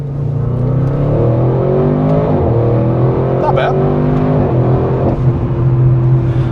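An Audi RS6 GT's engine and exhaust in its loudest exhaust mode drone with a steady, deep hum from inside the car as it pulls along, and a person talks over the sound.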